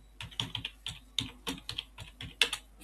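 Someone types on a computer keyboard, giving a steady run of sharp, close key clicks at an uneven rhythm against a quiet background.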